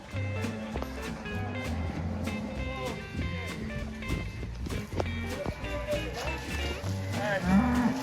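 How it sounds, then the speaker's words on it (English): Several cattle moo repeatedly, some close and some farther off, amid hoofbeats and movement, with bits of voices mixed in. "Watch them move these cows"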